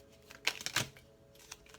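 Tarot cards being shuffled in a short burst of papery riffling and slaps near the middle, fairly faint and close, with a soft tap toward the end; no one speaks.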